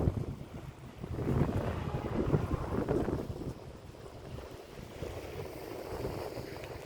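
Strong sea wind gusts and rumbles against a breakwater on the coast, a steady broad roar that swells and eases with distant wave wash underneath, with no voices.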